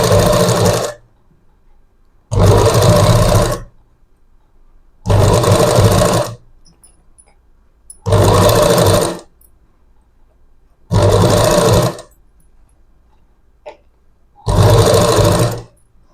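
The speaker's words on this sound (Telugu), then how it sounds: "రౌండ్గా కుట్టు అనేది వేసుకుందాం" Sewing machine stitching a round seam around a ready-made blouse neckline, running in six loud bursts of about a second each, separated by short pauses with no talk.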